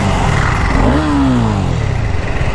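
A Hero Xtreme 250R motorcycle engine revs up sharply, pitch rising then sliding back down over a steady loud idle rumble, close by with no talking.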